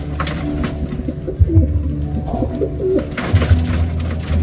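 Racing pigeons coo close by during derby race training, several soft low throaty coos repeating in irregular bursts over a murmuring background.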